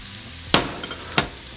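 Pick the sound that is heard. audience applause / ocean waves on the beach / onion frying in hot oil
onion frying in hot oil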